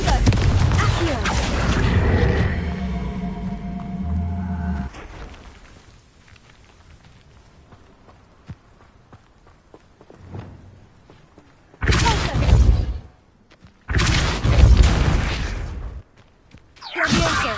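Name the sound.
spells cast in Hogwarts Legacy video game: Incendio, Confringo, Accio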